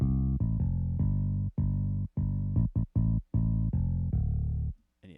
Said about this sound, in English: And then the bass line by itself sounds like this.